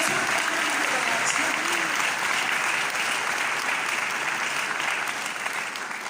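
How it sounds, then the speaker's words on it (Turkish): An audience at an award ceremony breaks into sustained, dense applause that holds evenly throughout, a broad wash of clapping with no pauses. "Bir kez daha alkışlayalım mı?"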